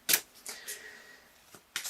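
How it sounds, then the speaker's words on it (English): Tarot cards shuffled by hand up close, with a few quick papery riffles and soft slaps separated by short quiet gaps. "I'm just looking at these cards over here as I shuffle."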